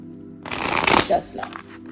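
Tarot cards are shuffled during a reading with a soft burst of papery riffling and crackling over a second or so, close by, with a quiet room tone underneath.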